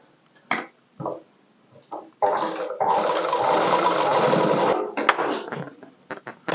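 A sewing machine stitches elastic onto a party-wear frock, running continuously for about three seconds. Short voice bits and clicks come before it and a few brief taps follow.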